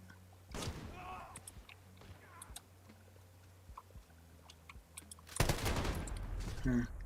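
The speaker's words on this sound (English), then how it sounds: "That was a sniper, right?" Gunfire in Modern Warfare (2019), including a sniper rifle shot: sharp, scattered cracks and thuds, then a loud burst of shots near the end, with quiet game sounds in between.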